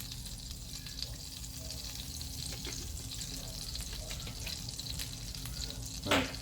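Basil leaves fry in a pan for shrimp scampi, giving a steady close sizzle with a low hum beneath and a brief louder crackle near the end.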